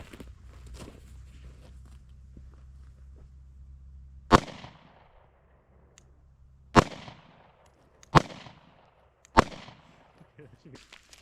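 Four sharp 9mm pistol shots ring out outdoors at homemade body armor, spaced a few seconds apart, each loud and near with a short decaying echo, after a quiet stretch with a low rumble and faint background noise.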